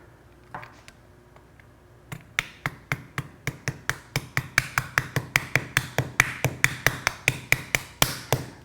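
Metal mold pins are tapped into chamfered holes with a steady run of sharp, close knocks, about two dozen evenly spaced hits, preceded by a couple of faint taps and quiet shop hum.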